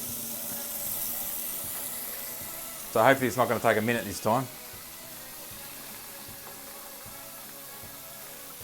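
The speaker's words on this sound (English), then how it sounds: "Just turn the tap on, start it." A tap runs hot water from a Rinnai system with a steady, soft hiss throughout, while a voice briefly speaks partway through.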